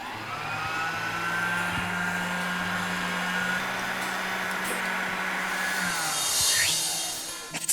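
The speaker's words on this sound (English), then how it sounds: "And we send it through the grinder too. In goes the cilantro as well." Electric grinder whirring steadily as cilantro and spinach are fed through it, a continuous loud motor drone lasting throughout with a slight rise near the end.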